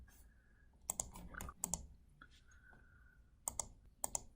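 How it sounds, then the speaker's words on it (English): Several sharp mouse clicks come in close pairs, with a few softer taps between them, while a business-rules screen in SAP SuccessFactors is saved. They sound near and quiet, with no voice. "So if I click on save,"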